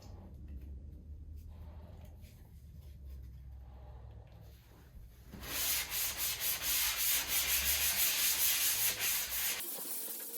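Sanding a drywall patch: quiet low rumble at first, then from about five seconds a loud, steady rhythmic scraping and rubbing of sanding strokes that continues almost to the end.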